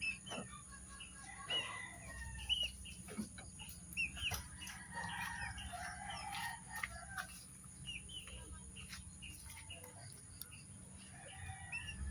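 Chickens cluck and chatter steadily close by, with scattered higher calls, over a constant low hum.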